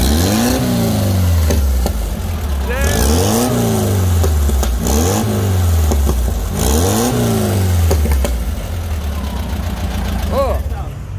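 A Volkswagen Beetle (Fusca) engine revving up and falling back again and again in repeated swells over a steady idle, loud and close, with people talking over it.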